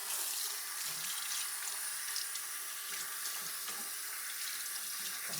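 A bathroom tap runs steadily into a sink for face washing during an evening skincare routine, a constant close hiss of flowing water with faint splashes and shifts as hands move beneath the stream.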